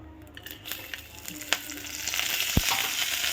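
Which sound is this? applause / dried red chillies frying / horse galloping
dried red chillies frying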